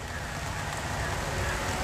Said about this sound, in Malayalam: മഴയുണ്ട്, അതുകൊണ്ട് അതിൻ്റെതായ ചില ഡിസ്റ്റർബൻസസ് ഉണ്ട്